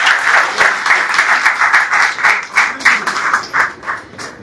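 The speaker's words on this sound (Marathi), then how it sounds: "अर्णवसाठी जोरदार टाळ्या" Audience applause at a Marathi theatre group's felicitation event, steady clapping from a crowd sustained throughout with rhythmic swells, close and fairly loud, no talking over it.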